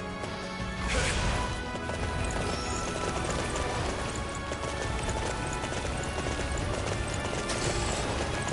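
Steady clip-clop of horse hooves at a gallop in Dynasty Warriors 9, continuous and fairly loud over a dense background of game music and ambience, with a brief whinny near the start.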